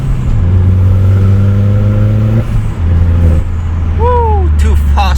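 A BMW N54 engine converted to a single turbo revs up as the car pulls away, rising engine tones under a whoop of excitement, followed by a chirping whistle near the end.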